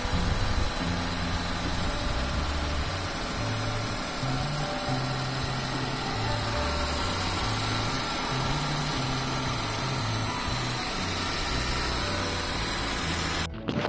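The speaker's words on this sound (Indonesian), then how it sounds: "suara kompresor AC-nya agak berisik ya." A noisy air-conditioning compressor runs on an idling 2002 Suzuki Baleno, a steady close engine drone with a low humming, slightly uneven tone that continues unbroken with no talk.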